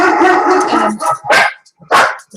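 Dogs bark loudly and close by in several sharp bursts, an opening volley followed by separate single barks with short gaps between.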